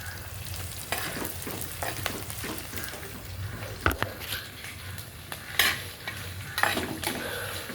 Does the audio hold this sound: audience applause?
no